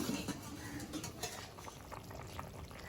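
Elephant foot yam curry boils in a pot, a faint close bubbling and gurgling with a soft hiss running throughout.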